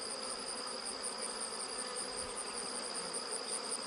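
Honey bees hum steadily around the frames of a small nucleus colony, a dense, even buzz with a high whining edge that holds without pause, close and fairly quiet, no voices.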